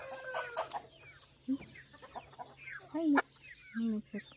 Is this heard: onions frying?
no